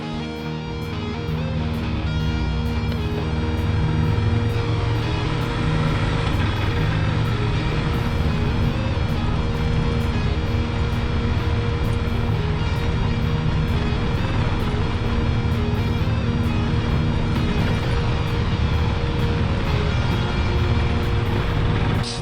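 A Suzuki V-Strom DL650 motorcycle on a gravel road to Aishihik Lake, its engine droning loudly and steadily with rushing wind and road roar throughout.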